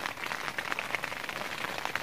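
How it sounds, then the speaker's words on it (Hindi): Heavy rain falls steadily on a tent at night in a dense fog, a dense, constant patter with scattered louder drops throughout and no voices. "अगर आपको आवाज़ आ रही हो, बारिश हो रही है"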